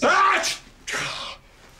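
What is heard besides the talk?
sneeze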